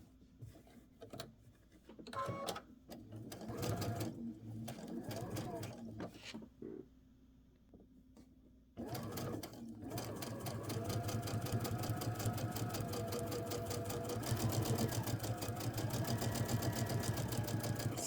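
Sewing machine fitted with a quarter-inch foot, stitching in short bursts with pauses and then running in one long steady mechanical whir, close by, with some talk over the early part.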